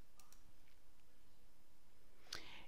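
A single mouse click on a Save button in office software, one brief sharp tick near the end after a stretch of quiet room tone, preceded by a couple of faint ticks.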